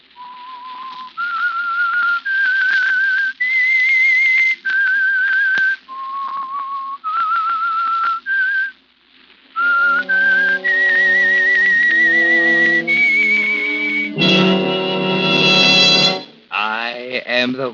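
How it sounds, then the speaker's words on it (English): Whistled theme melody of The Whistler, a 1946 radio mystery program sponsored by Signal Oil: a lone, clear, rising and falling whistled tune in several phrases, followed by loud orchestral music. "That whistle is your signal for the Signal Oil Program"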